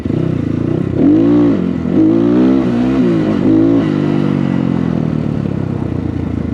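A heavy motorcycle engine revs loudly up and down nearby while practising wheelies, its pitch rising and falling in several surges before settling into a rough idle.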